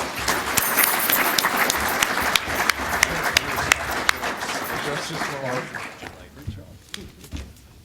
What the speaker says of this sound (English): So let's give the panel a warm round of applause.